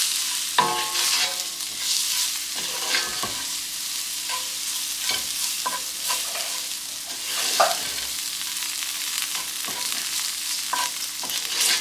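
Garlic and fresh ginger fry over moderate heat in a pan, giving a steady close sizzle broken by irregular scrapes and clicks of a stirring utensil, with no voices.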